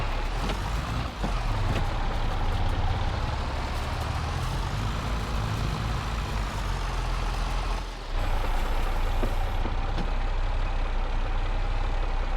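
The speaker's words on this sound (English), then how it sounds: "This poor tractor's gearbox is working hard today." Tractor engine and gearbox straining under load in Farming Simulator 22, a loud, continuous low drone with a shifting whine and a brief dip near the end, without speech.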